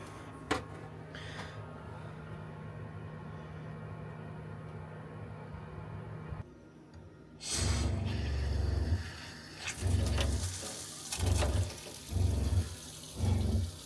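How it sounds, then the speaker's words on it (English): Faucet in a camper van build running water in short bursts: a loud rushing gush turned on and off several times in the second half, after quieter clatter and handling sounds. "I've got a faucet, which is super cool"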